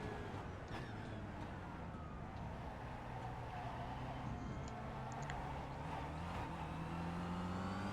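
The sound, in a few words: Kia Optima race car revving in first gear, iRacing video game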